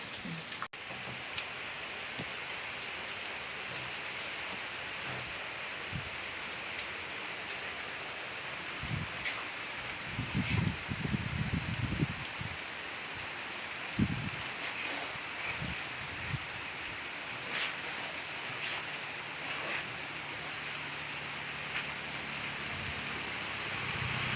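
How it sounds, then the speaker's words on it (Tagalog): Steady rain falling outdoors in remote Sri Lankan countryside, a continuous soft hiss of drops with occasional louder patters and faint low rumbles, no voices. "ulan sa kabukiran"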